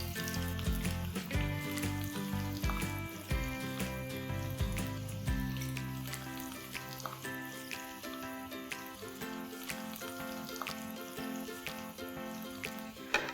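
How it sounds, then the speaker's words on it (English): Methi muthiya, fenugreek-leaf dumplings, frying in hot oil, giving a steady close crackle and sizzle that runs alone throughout with scattered louder pops. "Let's fry these till they're nice, crisp on the outside and golden brown."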